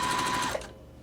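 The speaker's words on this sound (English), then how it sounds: "I'm again gonna stitch a 1/4 inch on both sides" A sewing machine runs a short burst stitching a quarter-inch quilt seam on a half-square-triangle block, a close rapid whirring that stops abruptly with a faint click.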